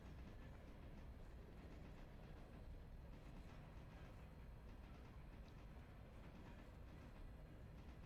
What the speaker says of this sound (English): Being as I do have 2 trains running constantly.